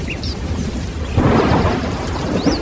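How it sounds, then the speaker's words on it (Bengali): Heavy rain pours down with rolling thunder in a steady, loud wash that swells after about a second. No voices are heard. "মুহূর্তের মধ্যেই ঝমঝম করে বৃষ্টি নেমে এলো।"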